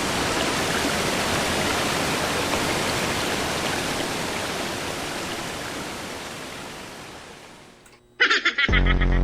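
Rushing flood water in the Exit 8 video game, a loud steady broadband roar that slowly fades before cutting off near the end, followed by a brief burst of louder clattering noise.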